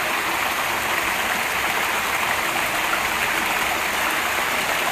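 Steady rush of water falling at a park grotto in Palmas, a constant full-band splashing roar that holds evenly throughout with no voices.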